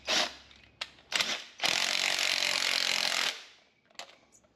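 A hand ratchet cranks down a bolt while Timbren suspension spring parts go in on a truck, short bursts of rapid clicking, then a longer sustained run of clicks, then a few faint taps.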